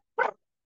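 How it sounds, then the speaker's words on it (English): A pet dog gives one short, sharp bark, standing alone against otherwise silent surroundings. "That's my dog Oliver"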